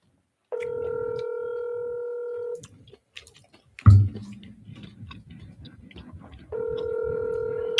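A telephone call is dialed, with a steady ringback tone sounding twice, long and clear, separated by a sharp click and soft rustling in between.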